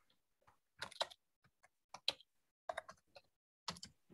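Computer keyboard typing: quiet, irregular clusters of sharp clicks and taps with brief pauses between bursts.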